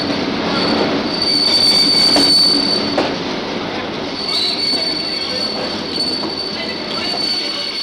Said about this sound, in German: Der Zug kreischte auf und rollte dann langsam aus.